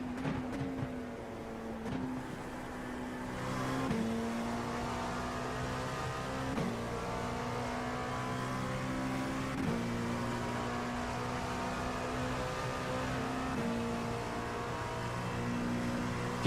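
Race car engine in iRacing on PC at Hockenheim, a continuous droning whine that climbs in pitch and then drops at each gear change, about every two seconds, steady and fairly close with no talk.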